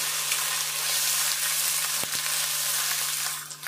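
Steady, close sizzling of ginger garlic paste frying in hot oil, a continuous hiss with a brief clink partway through, no voices.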